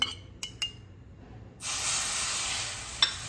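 A few light clinks come first, then room-temperature milk hits hot besan and ghee in a pan for besan laddoo and sets off a sudden, loud, sustained hiss and sizzle.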